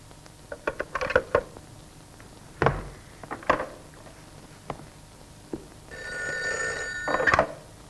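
A telephone bell rings in a Georgian comedy film. A few scattered clicks and knocks come first, then a single loud, sustained ring near the end.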